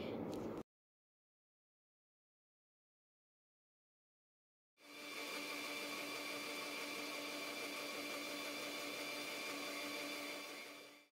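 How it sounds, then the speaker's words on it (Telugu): A kitchen mixer grinder blends sugar, almonds, half a glass of milk and water, starting after a brief sound and a long silence, then running as a steady, loud, close whine with a constant tonal hum for about six seconds. "ఇందులో 2 టేబుల్ స్పూన్ షుగర్, కొంచెం బాదాం అండ్ 1/2 గ్లాస్ మిల్క్ని వేసి కొంచెం వాటర్ని కూడా యాడ్ చేసుకొని మిక్సీ చేసుకోవాలి"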